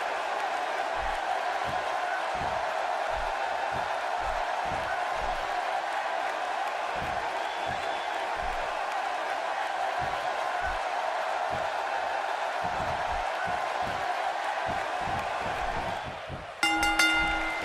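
A wrestling arena crowd before a tag team championship match, a steady roar of many voices cheering from a distance that holds for about sixteen seconds, then a brief louder tonal burst at the end.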